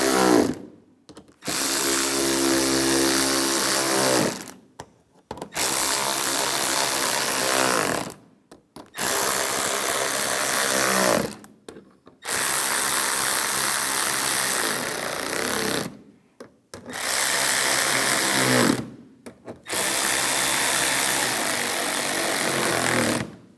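A power driver whirs in several long bursts separated by short pauses, loud and close, as headlight screws are tightened down on a Lincoln MKC.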